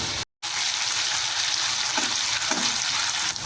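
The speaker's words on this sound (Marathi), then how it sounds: "थोडं फ्राय करून घ्यायचं आता यामध्ये अर्धा चमचा मिरची ठेच वाटलेली मिरची टाकते" Crushed garlic and ground green chilli sizzle in hot oil with a loud, continuous hiss and crackle, close up, broken only by a brief silent gap near the start.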